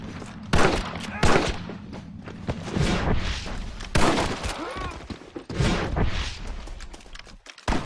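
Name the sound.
gunfire in a video game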